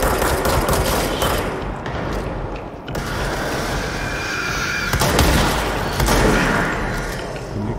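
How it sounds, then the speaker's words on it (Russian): Rapid bursts of blasts and gunfire crackle loudly over several seconds as kamikaze enemies explode in the game Control, with booming explosions standing out in a chaotic battle din. "Да ладно, твари еще и взрываются."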